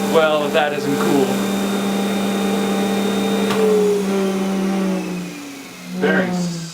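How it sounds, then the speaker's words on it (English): A printing press motor with worn bearings whines steadily, a continuous tonal drone with a rough, grinding edge that slowly winds down in pitch, with brief rattling bursts at the start and near the end. "Bearings sound like crap."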